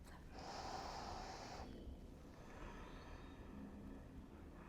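A deep, audible breath drawn in slowly during a calming yoga stretch, a long airy inhale followed by a softer release, close and alone with no talking.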